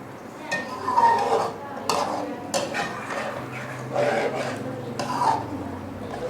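Chicken karahi with fresh cream is stirred and fried in a pan, giving repeated utensil scrapes and clinks against the metal over a soft sizzle, while someone talks.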